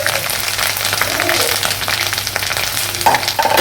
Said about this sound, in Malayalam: പൊട്ടിത്തെറിക്കുന്ന സൗണ്ടൊക്കെ കേൾക്കുന്നുണ്ട്